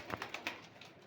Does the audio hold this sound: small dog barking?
no